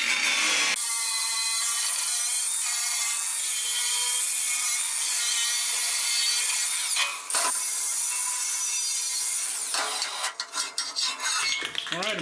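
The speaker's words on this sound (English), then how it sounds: "We'll get it cleaned up with a wire brush" A wire brush scrubs steadily across a welded metal strap for several seconds, a loud, harsh, continuous scratching with a brief break midway and choppier strokes near the end.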